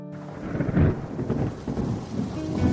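A monsoon thunderstorm in Mumbai, with a steady roar of heavy rain pounding surfaces and deep thunder rumbling through in slow swells, loud and continuous with no voices.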